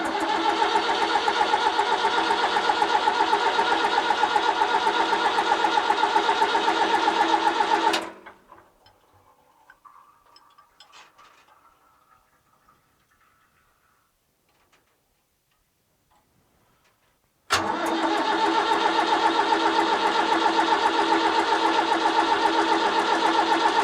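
A David Brown 990 Selectamatic tractor diesel engine runs with a steady close rattling idle, cuts out and falls silent for several seconds with faint clanks, then fires again abruptly into the same loud, even chugging.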